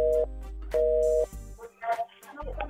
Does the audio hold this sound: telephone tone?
yes